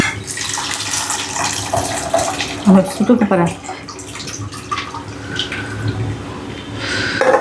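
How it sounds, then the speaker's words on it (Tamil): Water pours into a chili-powder curry mixture being prepared in a home kitchen, an ongoing trickling and splashing that sits under a voice talking, with a brief louder splash midway. "அவ்வளோதான் தண்ணி ஊற்றியாச்சு"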